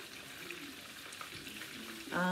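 Italian gravy simmers in a pot on the stove, giving a soft, steady bubbling hiss close by, capped by a brief louder tonal scrape at the end.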